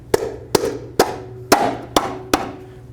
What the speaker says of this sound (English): Don't forget about your center cap. Tap it on,